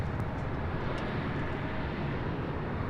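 Airbus A319 airliner on final approach to runway 24 Left at LAX, a steady broad low engine roar that holds constant throughout, fairly loud and continuous with no voices.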